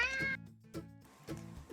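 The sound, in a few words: cat meowing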